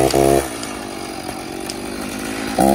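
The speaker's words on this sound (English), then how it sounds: "How to bust out the big guns for a little bit of a chainsaw action." A chainsaw roars loudly, revving at the start and end with a steady idling drone in between, close to the listener.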